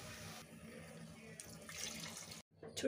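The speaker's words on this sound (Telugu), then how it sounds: "వాటర్ యాడ్ చేసుకోవాలి" Water is poured into a cooking pot of chicken for pressure-cooker tandoori, a steady close splashing flow lasting a couple of seconds before a brief cut and a fresh surge at the end.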